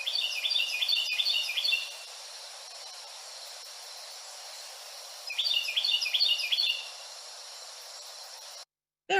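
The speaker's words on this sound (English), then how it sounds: "a good example would be the Carolina wren" A Carolina wren sings two bursts of rapid, repeated chirping phrases, clear and bright, separated by a few seconds of quiet background hiss.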